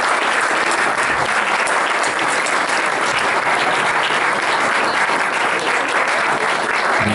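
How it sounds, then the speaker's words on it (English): An audience gives sustained applause after live performances at the Liquid Architecture 2015 festival in Perth. Dense, even clapping from a large crowd holds at a loud, steady level with no speech. "Another big round of applause for all of them."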